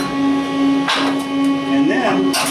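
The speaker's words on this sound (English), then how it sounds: "Now come in here and chip our slag." A few sharp chipping-hammer knocks break slag off a weld deposit laid on cast iron, the strikes sparse and close over a steady machine hum, with someone talking.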